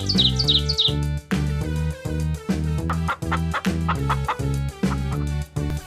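A cartoon hen clucks in a children's animated fairy tale, with short bird-like calls at the start and then a steady rhythmic pattern of repeated clucks over bright background music.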